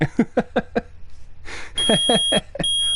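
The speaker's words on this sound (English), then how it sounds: "We're hearing that beeping. It reacted." A metal detector beeps in the Phoenix Wright: Ace Attorney video game, a run of sharp electronic tones sounding clearly alongside the game's voice blips.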